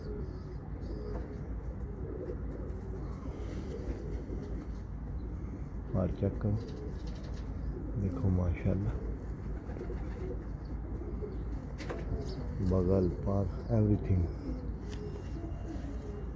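Lightweight summer pigeons coo softly in a loft, their low calls recurring under men's nearby conversation.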